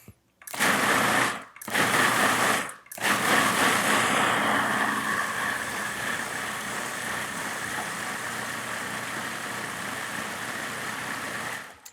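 Blender pulsing tomato sauce with garlic, two short loud bursts separated by brief silences, then a longer steady whir that settles into a softer, even hum.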